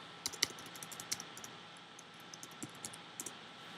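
Someone types a password on a computer keyboard, producing a quiet, irregular run of light key clicks against faint background hiss.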